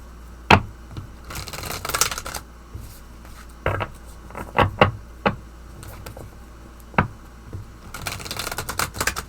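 Tarot cards are shuffled and tapped in a quiet room, giving sharp papery riffles and clacks in irregular bursts, with several louder snaps and longer shuffling flurries near the start and end.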